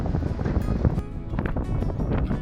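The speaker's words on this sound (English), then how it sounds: "Instead of less wind, there's more, 25 knots from the wrong direction." Strong 25-knot wind at sea heard from a sailboat on open ocean, a loud, gusty roar with buffeting bursts against the microphone and rushing water beneath, continuous through the whole stretch.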